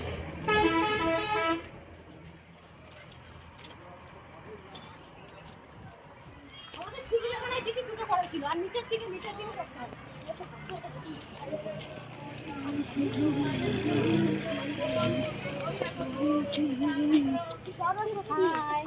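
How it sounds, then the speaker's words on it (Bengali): Traffic crosses the Haskhali bridge with car and bus horns honking, a busy mix of engines and repeated horn blasts, loud at the start and again later, with people talking amid the noise. "বাজাচ্ছে হাসখালি ব্রিজের আওয়াজ"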